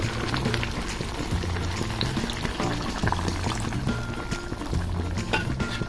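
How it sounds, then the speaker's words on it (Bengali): Water is poured into a bubbling pot of pangas fish curry, a continuous liquid splashing and gurgling over a low simmer, with a faint clink or two. "মাছটা কষিয়ে নিয়েছি, এবার আমি আরেকটু পানি দিয়ে দিব।"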